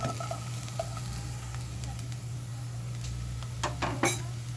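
Garlic and onion sizzle steadily in a pan while pancit canton is prepared, with a constant low hum underneath and a few clinks of utensils toward the end.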